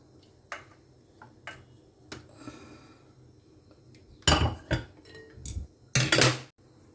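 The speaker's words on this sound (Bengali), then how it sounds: "এর মধ্যে আমি এবার ডিমটা মেলাবো।" An egg is mixed into cooled sago pudding in a pot, giving sharp metallic clinks and scrapes of a utensil against the pot. The clinks are sparse at first, then come as a cluster of louder strikes near the end.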